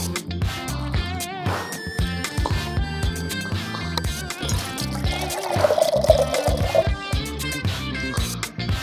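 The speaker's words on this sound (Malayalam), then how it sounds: "കുറച്ച് വെള്ളം കിട്ടുള്ളൂ, ഒരു കരിക്കിന് കുറച്ച് വെള്ളം കിട്ടുള്ളൂ." Water from a freshly cut tender coconut pours out in a brief trickling stream, mixed with background music.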